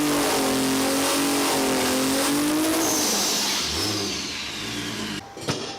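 A Toyota Supra doing a burnout on off-road slicks inside a garage: the engine screams at high revs with a rising and falling pitch and tire squeal, then drops off before a couple of sharp bangs near the end.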